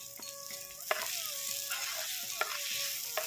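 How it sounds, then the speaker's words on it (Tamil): Chopped tomatoes sauté in a pan while a dry fish curry is cooked, a soft continuous sizzle with light scraping stirs at intervals, close and steady. "தக்காளி வதங்கட்டும்"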